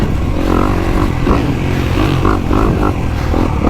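A 2025 Honda CRF250R dirt bike engine is recorded on board while riding a track, with a loud buzzing drone that surges and falls through the corners, mixed with some rattle and clatter.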